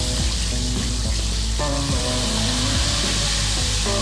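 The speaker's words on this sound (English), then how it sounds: "using the hot oil, we simply pour it over our duck." Hot oil ladled over a hanging duck for Chinese braised duck, a loud continuous crackling sizzle with shifting hissing tones as the oil hits the skin and drains into the pan.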